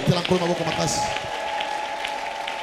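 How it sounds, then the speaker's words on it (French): A church congregation at a Sunday service applauds loudly, the clapping blended with cheering voices and a sustained sung or shouted tone, continuing steadily without pause. "Acclamons Jésus très fort"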